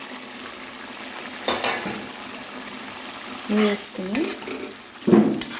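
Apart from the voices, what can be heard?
curry with fried eggs being stirred while cooking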